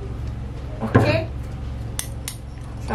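A face serum mixture is stirred in a small container, a short burst of clinking and scraping near the start, then a few lighter taps, close and brief over a quiet background.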